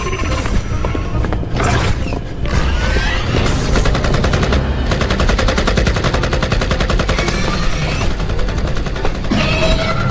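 Rapid automatic gunfire in an animated Upin Ipin horror scene, dense bursts rattling continuously over a loud, busy soundtrack.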